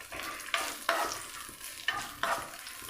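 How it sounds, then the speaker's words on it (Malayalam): Chopped cashews, almonds and pistachios roasting in ghee, a steady soft sizzle broken by a few sharp scrapes of a stirring spoon across the pan, close by with no talk. "ചെറുതായി കട്ട് ചെയ്തെടുത്തിട്ടുള്ള നമ്മുടെ അണ്ടിപ്പരിപ്പ്, അതേപോലെ തന്നെ ബദാം, പിസ്ത എല്ലാം കൂടെ നമുക്കൊന്ന് റോസ്റ്റ് ചെയ്തെടുക്കാം."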